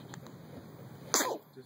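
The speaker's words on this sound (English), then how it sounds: "Oh, sake, there was a sneeze. God bless you." A single quick sneeze bursts out over a quiet room background, brief and fairly close.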